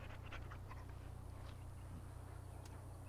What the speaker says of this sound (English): he is a good dog